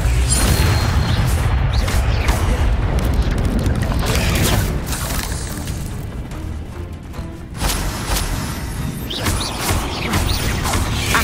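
The Incendio fire spell goes off in the Hogwarts Legacy video game, a loud booming blast with crashing bursts and whooshes that eases midway, then flares again amid ongoing combat noise.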